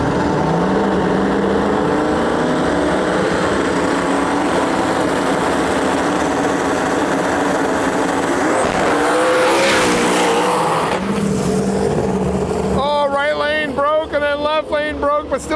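A New Edge Mustang and an SN95 Mustang drag racing side by side, loud engine roar carrying throughout with a rising whine near the middle, under an announcer's talk.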